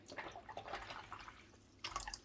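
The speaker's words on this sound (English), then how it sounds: "the first thing I'm going to actually do is just rinse the cap in here" A plastic dye bottle cap being rinsed in water while hand-dyeing yarn, heard as faint, quiet trickles and drips with a small splashy burst near the end.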